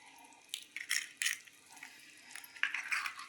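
Eggs for egg masala are cracked into a bowl, four in all: a few quiet taps and cracks close by, followed by soft wet drips and small dish clinks, with no voices.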